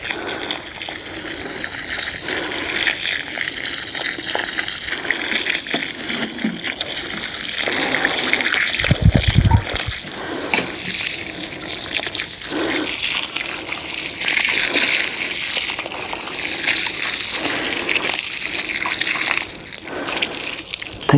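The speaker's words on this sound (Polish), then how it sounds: "to właśnie wleję do tych rowków sporą ilość wody." Large quantity of water gushing steadily into garden furrows spread with granulated manure, a loud continuous rushing pour lasting the whole stretch with brief splashy surges.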